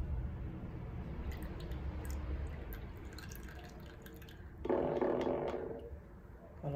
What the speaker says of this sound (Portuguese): deixa escorrer um pouco, que a gente vai espremer ali no pano